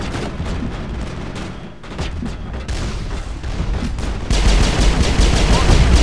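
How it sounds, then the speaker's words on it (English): Mass Effect combat erupts in loud bursts of gunfire and blasts, a rocket-like boom swelling into heavier, denser explosions near the end. "That's a rocket."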